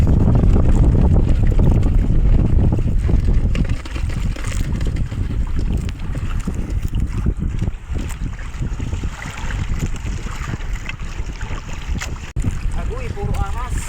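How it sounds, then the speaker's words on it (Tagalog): Strong wind roars continuously into the microphone, heavy low rumbling buffeting throughout, with water sounds and faint voices in the background. "Malakas pa ang hangin, no?"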